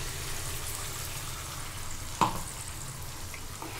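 Paste added to capsicum frying in a wok, a low steady sizzle with one sharp clink of a spoon midway and a faint later tap, close and with no talk.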